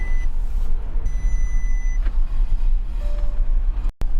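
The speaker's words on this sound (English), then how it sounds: "I'm just going to drive it up and down the driveway a good few times" A Porsche Cayenne rolls along a driveway with a low engine rumble close by, and brief electronic beeps chime above it before a sudden cutoff.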